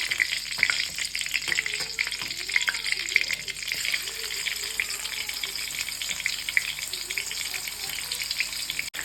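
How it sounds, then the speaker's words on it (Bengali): Ginger and green chilli paste hits hot tempered oil for Kashmiri alur dom, giving a loud, steady sizzle that runs throughout with faint stirring scrapes beneath. "ফোড়ন দেওয়ার পরে দিয়ে দেবো যে পেস্টটা করে রেখেছিলাম সেই পেস্টটা।"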